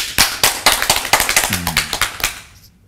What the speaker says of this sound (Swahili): Makofi tafadhali.